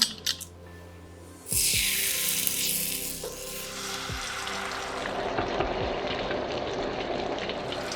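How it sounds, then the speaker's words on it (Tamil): Green-coloured kokis batter frying in hot oil for the crispy Sri Lankan snack, bursting into a loud, steady sizzle after a brief quiet start and hissing on without pause. "இப்போ நாங்கள் இந்த பச்சை நிறத்துலேயும் கொக்கீஸை வந்து சுட்டெடுக்கலாம்"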